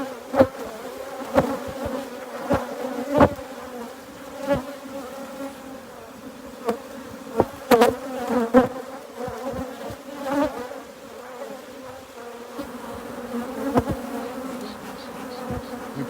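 Honey bees buzzing in an opened hive during an inspection, a dense steady drone close to the microphone with frequent sharp clicks and knocks of frames being handled.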